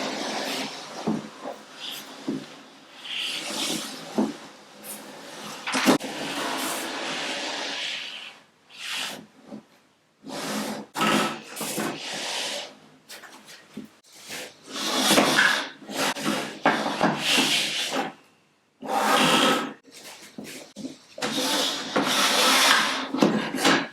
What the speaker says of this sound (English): I suppose I need to operate the saw with the left hand and move this dust container with the right hand